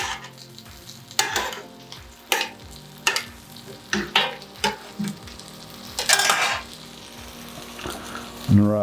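Onions sizzle loudly on a hot griddle for a hot Italian sub made cheesesteak-style, with a steady frying hiss punctuated by repeated rhythmic scrapes and taps of a metal spatula close by.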